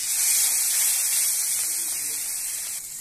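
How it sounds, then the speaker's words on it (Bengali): Small tangra fish fry in a little fish oil, producing a continuous, even sizzling hiss close by with no clear breaks. "তেলে আমি ট্যাংরা মাছগুলো দিয়ে দেব"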